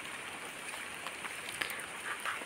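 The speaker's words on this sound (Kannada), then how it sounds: "ಮಳೆ ಕೂಡ ಸಣ್ಣಕ್ಕೆ ಜಿನಗ್ತಾ ಇದೆ ನೋಡಿ." Light drizzle falls steadily outdoors in misty hill country near the Sharavathi river, a soft continuous patter with a few faint drop ticks and no talking.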